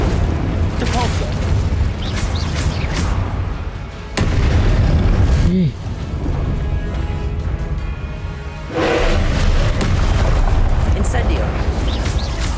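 Fire spells blast and boom in Hogwarts Legacy combat, loud bursts and impacts layered with music and game effects while a player shouts spell names over the action.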